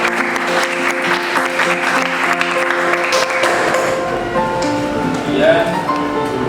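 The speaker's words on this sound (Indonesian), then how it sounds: "Kita tepuk tangan dulu untuk Naila." Classroom applause for a student in a mathematics lesson, a lively burst of many hands clapping alongside children's voices and chatter throughout.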